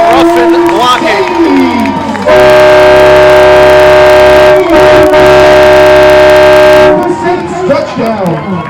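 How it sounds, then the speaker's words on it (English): An air horn blares at a college football game after a touchdown, one loud sustained blast of about four and a half seconds with a brief dip midway, amid crowd noise and commentators talking. "By the way, we have an air horn today."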